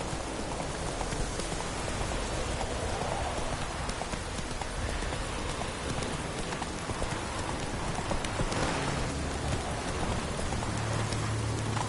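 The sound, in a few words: horse galloping in rain in The Witcher 3 video game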